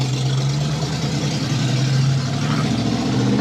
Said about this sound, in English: very loud car in front of me.